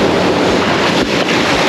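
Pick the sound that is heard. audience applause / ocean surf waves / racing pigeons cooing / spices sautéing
ocean surf waves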